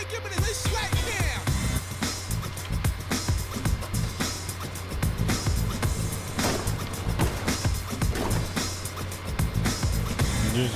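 A car drives in the Fortnite video game in playground mode. A loud, continuous engine drone carries constant rattling bumps and clatter, steady throughout.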